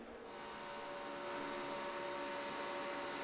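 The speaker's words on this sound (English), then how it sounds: "You can kind of hear Jimmy playing with the throttle a little bit." A NASCAR stock car engine drones at racing speed at Daytona, a steady, loud, close in-car roar with slight swells as the throttle is worked, no voices over it.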